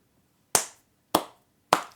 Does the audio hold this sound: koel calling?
no